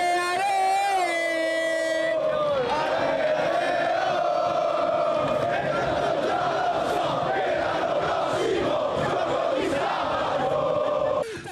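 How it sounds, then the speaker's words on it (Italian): Jubilant crowd filling Prato della Valle square in Padua cheering and singing football chants after a match, led by players from a terrace; loud sustained massed voices with a sung chant, shouts and horn toots. "Sulla terrazza del Foro Boario sono i calciatori stessi a intonare i cori, seguiti da una piazza piena di gioia"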